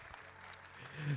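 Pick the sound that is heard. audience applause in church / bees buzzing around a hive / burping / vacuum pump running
audience applause in church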